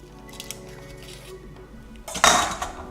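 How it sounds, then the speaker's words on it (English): A slice is cut from a Cracker Jack cheesecake in a home kitchen, with a soft crunch as the knife breaks through the crust partway in and faint clinks of plate and utensil around it. "So we're gonna cut a slice."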